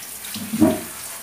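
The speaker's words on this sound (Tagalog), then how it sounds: "Ayan, maligo na siya." Water runs from a tap while a dog is bathed, a steady wash of flow with a brief louder splash midway, heard close and without talk.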